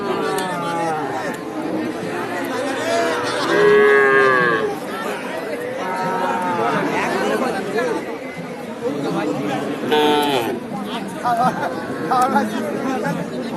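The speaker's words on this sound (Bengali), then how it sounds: "অসংখ্য গরু" Cattle, including small bulls and calves, low and moo repeatedly amid a busy crowd of people chattering nearby at an open-air livestock market in Naogaon, Bangladesh.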